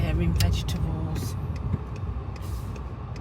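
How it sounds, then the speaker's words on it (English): Traffic moves through a busy IKEA car park, a steady rumble of car and bus engines with a brief hiss like an air brake, constant and fairly close. "It's busy in IKEA car park."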